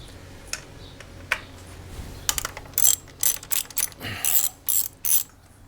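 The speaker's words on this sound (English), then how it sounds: "press down on the connector and release it like that" An electrical connector is pressed and unclipped on a Mazda MX5 Mk3 engine at the ignition coil. Small plastic clicks and rattling snaps come in a quick, irregular cluster, close up and without speech.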